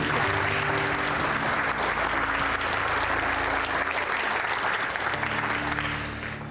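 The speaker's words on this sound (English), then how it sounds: "And clap for Mark's portrait" Sustained applause from an audience at a military portrait-honoring ceremony, steady and dense throughout, with faint tonal hum beneath and a slight fade at the end.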